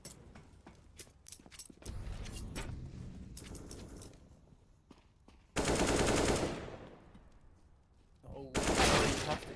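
Rapid bursts of M4A1-S rifle fire in a Counter-Strike esports match, crackling in short volleys with two loud sustained bursts, amid game noise and brief clicks.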